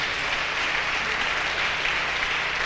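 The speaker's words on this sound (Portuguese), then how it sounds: "Aplaude a Ele, bem forte," A church congregation claps hard and continuously, a dense, loud wash of applause that fills the whole room without a break.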